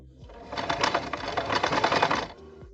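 A sewing machine stitching bias tape along the edge of a piece, running in one fast, steady burst of rapid needle clatter for about two seconds, close and clear.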